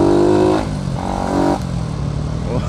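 A Yamaha Sniper 150 motorcycle set up in a big-bike style accelerates nearby, its engine rising loudly, dropping briefly between gear changes, then pulling again.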